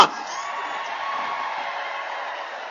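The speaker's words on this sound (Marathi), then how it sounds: "सगळे उभा जोरदार टाळ्या वाजवा" A big crowd at a political rally claps and cheers, making a steady, dense wash of noise that holds for a few seconds after a short burst at the start.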